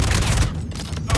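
Video game gunfire bursts out as a loud, dense rattle of shots, briefly dropping away mid-clip before another blast, close and harsh throughout.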